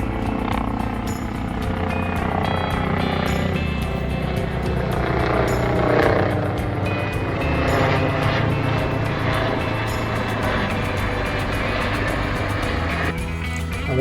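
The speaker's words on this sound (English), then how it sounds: "Helicopter's going to come over, do a site survey of the landing zone" Medevac helicopter circles overhead on a survey flyover of the landing zone, a steady loud engine and rotor roar that holds constant throughout with slight swells, heard outdoors without talk.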